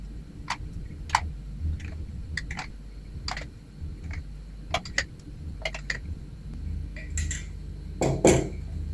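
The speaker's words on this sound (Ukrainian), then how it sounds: "І вінчиком потрібно гарно збити." A wire whisk beats eggs and sour cream in a bowl, producing quick sharp clinks and taps against the sides in uneven bursts, fairly close, with no talking.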